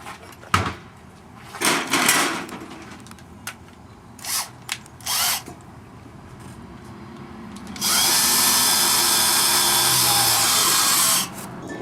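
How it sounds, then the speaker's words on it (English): A power drill whirs in several short bursts, then runs steadily for about four seconds as it bores a hole through a wine barrel, guided along a rail, with faint clicks and handling noises. "So I'm going to drill a hole roughly right there."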